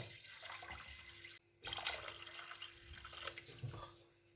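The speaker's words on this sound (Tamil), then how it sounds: "அதே கப்பால் வந்து நீங்கள் ரெண்டு கப் தண்ணி சேர்த்துக்கொள்ளுங்க" Water is poured from a cup into a pan of rice and green peas, a soft running trickle that breaks briefly and resumes, faint and close, with no talking.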